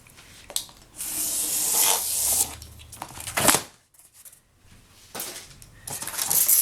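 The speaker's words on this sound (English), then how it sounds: "I'm going to use the knife itself and cut it off" Utility knife slicing through cardboard while shaping a custom packing box, with rough scraping and tearing strokes in a few close bursts, separated by brief pauses.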